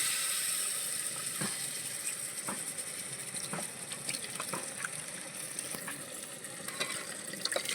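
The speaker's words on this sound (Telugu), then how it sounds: "కొన్ని నీళ్ళు పోస్తుంది" Water poured into a pan of fish curry with chili powder, a soft steady wash over sizzling with scattered spoon clinks against the pan, close but fairly quiet.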